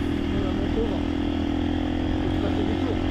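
A 450 motorcycle engine runs steadily on the Merzouga sand dunes, a loud, close, continuous drone with no pause or break across the whole stretch.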